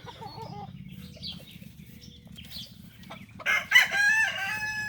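A game fowl rooster crows loudly near the end, preceded by soft clucking and a low steady hum in the background.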